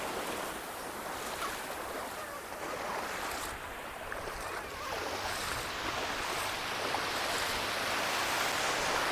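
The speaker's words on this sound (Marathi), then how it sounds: "पाहू शकता किती जोराच्या लाटा येतात" Strong ocean waves surge and break at Varsoli Beach in Alibag, a continuous loud roar of surf that swells louder toward the end, with no talk over it.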